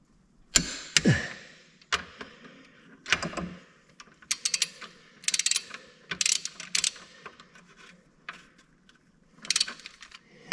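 Torque wrench ratcheting on the main bearing caps of a Cat C13 diesel engine during a teardown, giving irregular clicking bursts spread across the clip, close and fairly crisp, with quiet gaps between strokes.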